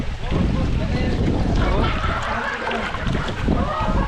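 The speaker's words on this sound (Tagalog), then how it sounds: "grabe ang lakas ng hangin dito" Strong wind buffets the microphone outdoors at a swimming pool after a trip from Subic, a steady loud rumbling roar throughout, with faint voices underneath.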